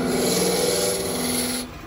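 A turning tool scrapes and cuts into a wood bowl spinning on a lathe during back hollowing, a loud, close, continuous rasping rub that eases off near the end.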